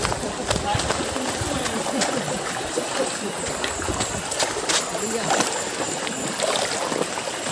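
People wading across a river in the countryside, water splashing and churning continuously and close by around their legs, with voices talking over the rushing water.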